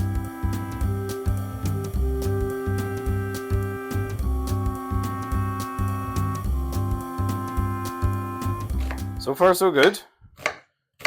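A knife chops onion chunks on a cutting board at a barbecue cook, in a steady run of quick, even strikes with a faint tonal background. A brief spoken remark and a clatter come near the end.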